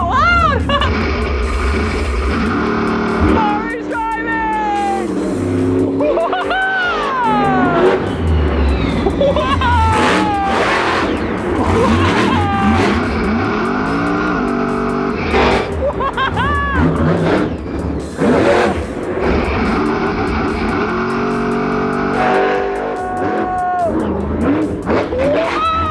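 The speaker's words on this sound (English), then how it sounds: "The engine is so loud!" A car engine revs loudly and steadily through the whole stretch, with excited voices talking and exclaiming over it.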